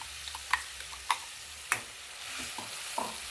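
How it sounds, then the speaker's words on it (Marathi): Ground coriander paste sautéed in a pan, with soft frying beneath a few distinct spatula knocks and scrapes, fairly quiet and without talk. "याला फक्त आपण परतून घेणार आहोत."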